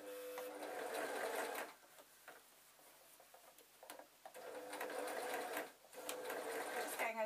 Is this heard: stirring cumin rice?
no